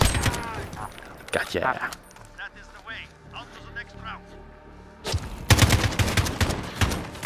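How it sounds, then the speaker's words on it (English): AK-47 bursts in Call of Duty: Modern Warfare, loud close rattling volleys at the start and again near the end, with quieter game sounds and a brief spoken word between them. "Oh, the sound of AK is magnificent."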